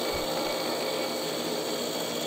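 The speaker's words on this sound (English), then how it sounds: "as you drill, you want to back the bit out slightly to let the circulation of the bit move the water and pull that swarf out of the hole" Diamond drill bit cutting into glass with water, giving a steady, loud, continuous grinding whir with no pause or talk.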